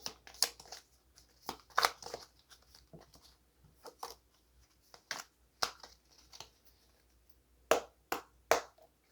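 Tarot cards are shuffled in soft, papery bursts of riffling and snapping. Quiet clusters of flicks are spaced irregularly, with a tighter run of snaps near the end, and no one speaks.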